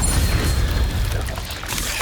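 Incendio spell blast from Hogwarts Legacy, a dense roaring boom that holds loud and steady for about two seconds with crackling texture on top.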